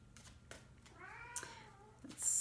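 A Bengal cat lets out a drawn-out, chatty meow up close, followed by a few shorter chirps in an otherwise quiet room.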